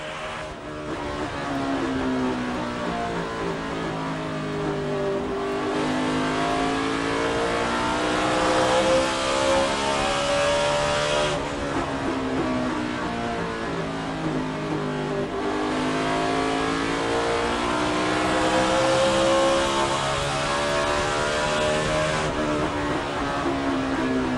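Race car engine at the 2005 Chevy Rock & Roll 400 stock car race, a steady loud drone with rising and falling pitch sweeps as the car laps the track, continuous for the whole stretch with no talk.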